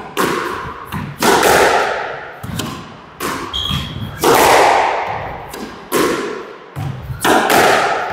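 A squash ball struck hard on court, sharp repeated thwacks of racket and wall echoing in a quick rally rhythm, close and loud, with a few short calls between shots.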